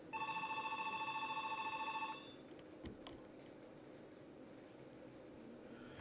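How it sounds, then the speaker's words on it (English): A telephone rings with a fast electric bell trill for about two seconds and then stops, leaving faint room noise and a soft knock afterward; no talking. "but my phone's ringing"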